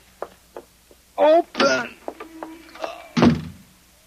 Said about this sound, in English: I've got to get out the front door.